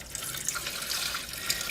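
Liquid fabric dye pouring from a bottle while dyeing costume straps, a soft continuous splashing trickle, close and fairly quiet, with no voices.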